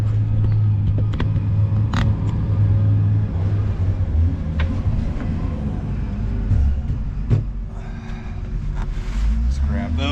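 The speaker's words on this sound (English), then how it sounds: "Front end loader go by" A front end loader drives past near an outdoor truck camper build, its deep engine rumble and rattling machinery swelling and fading over about ten seconds, with scattered clicks and knocks in the foreground.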